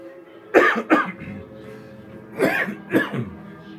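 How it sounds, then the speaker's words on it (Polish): Several harsh coughs from one person indoors, in two pairs with a quiet gap between them, close and fairly loud with no talking. "Kaszel to nie COVID"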